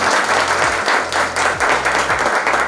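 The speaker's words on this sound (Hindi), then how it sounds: "जोरदार ताली एक बार गैलवे बिजनेस के लिए" An audience at a business motivational event breaks into loud, close applause. Many hands clap in a dense, continuous burst with a faint murmur of the crowd underneath.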